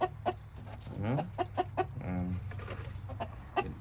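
Several chickens cluck repeatedly in a backyard coop during egg collection, a rhythmic series of close, moderately loud clucks with a drawn-out squawk in the middle, with no speech.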